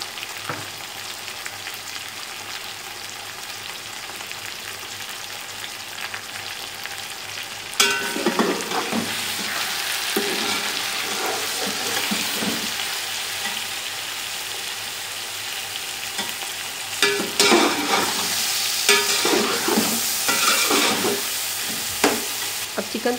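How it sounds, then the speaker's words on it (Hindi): Chicken pieces with salt fry in a pot for Punjabi chicken pulao, a loud continuous sizzle and crackle that surges whenever the meat is stirred, with scraping spatula bursts and no speech. "अब चिकन को इतना फ्राई करेंगे कि इसका कलर चेंज हो जाए और प्यारा सा गोल्डन कलर आ जाए"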